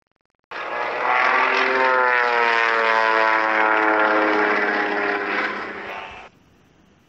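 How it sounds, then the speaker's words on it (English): A propeller plane engine in a children's Android vehicle game drones steadily for several seconds in a buzzing, synthesized tone, then cuts off abruptly. "Propeller plane."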